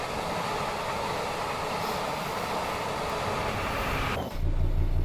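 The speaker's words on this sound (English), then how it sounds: "And here comes the HST" An HST train in the Train Sim World 5 game sweeps past on the Midland Main Line as a steady, loud rushing roar that abruptly shifts to a deeper rumble near the end.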